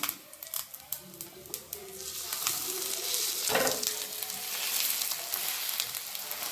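A besan pola, a gram-flour pancake, sizzles in a pan and is flipped partway through, with a loud burst of frying as it turns, then a steady, close crackle. Brief spatter clicks come before the flip.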